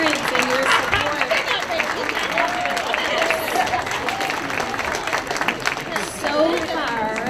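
Parents being applauded by students and guests at a celebration dinner, dense clapping filling the room throughout with crowd murmur and voices mixed in.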